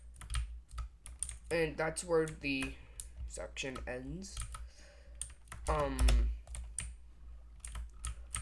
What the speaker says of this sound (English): I have a mechanical keyboard